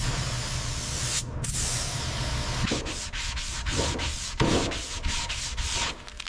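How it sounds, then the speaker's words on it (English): Sanding on the primed body of a restored Dodge car before paint, a steady abrasive rubbing hiss with repeated stroke-like surges, close and continuous with no talking. "Sanding again."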